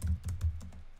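Typing on a computer keyboard, a quick run of close, soft key clicks at an uneven rhythm with no talking.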